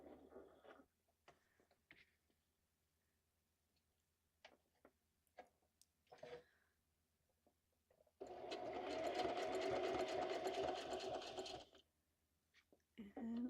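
Sewing machine stitching fabric while assembling a junk journal: scattered small clicks and handling taps, then a loud, close burst of rapid stitching lasting about three seconds before stopping.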